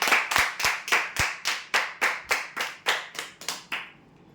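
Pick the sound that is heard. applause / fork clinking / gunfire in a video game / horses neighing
applause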